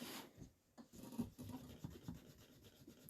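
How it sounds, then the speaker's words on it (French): An eraser rubs across paper in short, quiet scratchy strokes that come in irregular bursts, close up with no voices. "je vais gommer là où il faut"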